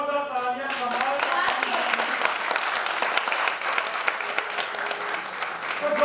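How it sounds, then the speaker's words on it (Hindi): An audience breaks into loud, sustained applause for visually impaired musicians at a children's singing competition grand finale in Mumbai, dense clapping that follows a sustained musical note and continues steadily throughout. "एक बार उनके लिए जोरदार तालियां"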